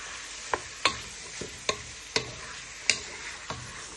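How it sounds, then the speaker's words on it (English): Onion, garlic and peppers are stirred in a pan, with about eight sharp utensil scrapes and taps spaced irregularly over a soft, steady sizzle. The sound is close and has no talking. "You want to give this all a good stir so it brings out flavour to the pan"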